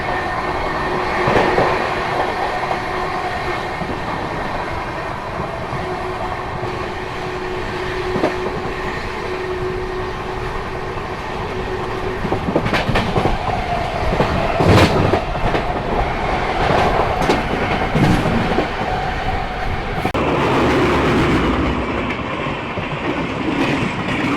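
A Kathgodam Shatabdi Express runs at over 110 km/h through the night past Gajraula station. From inside the carriage comes a loud, steady rumble with rhythmic wheel clatter and scattered sharp clanks and squeals. Nobody speaks.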